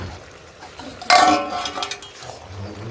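A lid comes off a cooking pot of bottle gourd and snails with a sharp metallic clank, then a soft simmering and clinking of the pot.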